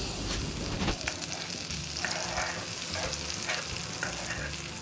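Sliced banana sautés in melted butter in a pan, a steady close sizzle with periodic scraping stirs and faint crackles, no talking.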